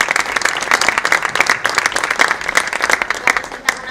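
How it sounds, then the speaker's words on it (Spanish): Vigorous applause from an audience at a cultural agenda press conference, loud dense clapping sustained evenly across the whole stretch with no talking over it. "Curro, adelante, un aplauso, por favor."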